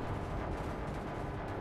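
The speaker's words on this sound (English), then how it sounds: "Stop shooting!" Gunfire in Space Engineers, a dense, dull barrage of rapid low booms packed into a short continuous roar, loud and close with no gaps.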